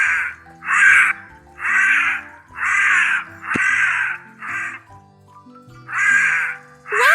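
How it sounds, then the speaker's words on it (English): A crow caws loudly and close by, a series of harsh rasping calls in a steady rhythm with short gaps between them, heard alone without speech. "Wow, that's a crow."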